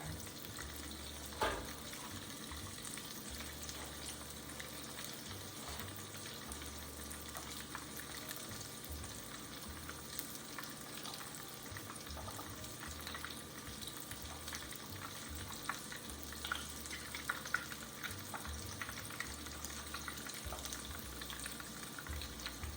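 Food frying steadily in hot oil in a pan, a continuous soft sizzle with a low hum beneath and occasional faint clinks, no talking.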